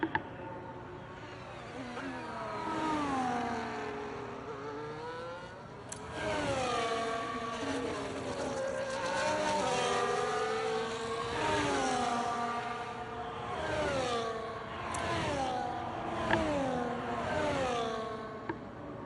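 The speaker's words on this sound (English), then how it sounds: "Just having it in that view, like the constant sound of the engine." An F1 race car engine in the video game F1 24, with a McLaren lapping the Australia circuit, its high-pitched whine rising and falling through repeated gear changes as it accelerates and brakes, loud and continuous.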